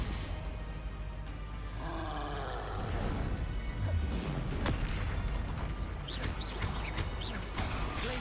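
Fire spell blast from the Hogwarts Legacy video game on PS5, a booming crash that erupts amid dense, roaring combat noise with sharp impacts and whooshing effects throughout, loud and continuous.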